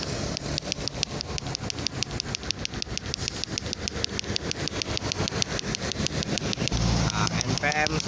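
A NPM Sultan Class bus engine idles and rumbles in congested Palembang traffic, with a steady mid-low drone, rhythmic mechanical ticking and other vehicles around it.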